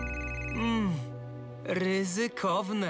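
A cartoon telephone in an animated Bob the Builder episode rings with a steady electronic tone for about a second, then a character's voice speaks over lively animated sound.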